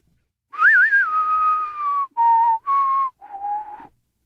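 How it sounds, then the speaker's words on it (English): A person whistles a melody alone, loud and close, in four clear phrases: a long wavering opening note that settles, then three shorter steady notes separated by brief gaps. "Whistling!"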